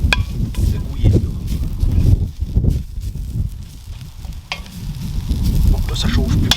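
Vegetables sizzle and caramelize on a barbecue grill, a steady loud crackling fry that keeps going throughout with some scraping movement.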